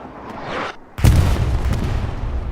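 Artillery shells burst in the Hell Let Loose battle at Utah Beach: a soft whoosh, then a heavy booming impact that rumbles on loud and close.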